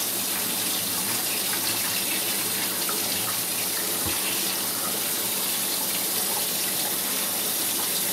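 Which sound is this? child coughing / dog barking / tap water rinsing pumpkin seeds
tap water rinsing pumpkin seeds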